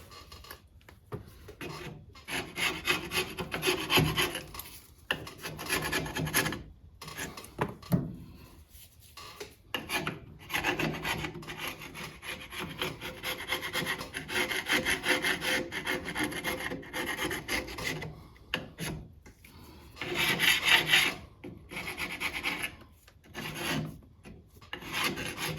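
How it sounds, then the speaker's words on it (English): A makeshift tool scrapes dirt and old gasket pieces off the rear axle housing of a 1966 Ford Mustang, a steady close rasping and rubbing with brief pauses between strokes. "clean off all the dirt and gasket pieces. I lost my gasket scraper"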